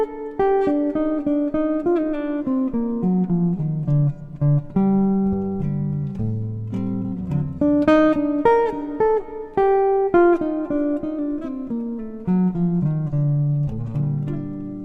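A guitar plays the first eight bars of a jazz-flavored solo, a flowing single-note melodic line with bends and phrases that move up and down, close and clear with no talking.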